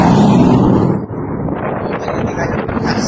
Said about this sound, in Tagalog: Mahangin na mainit, diba?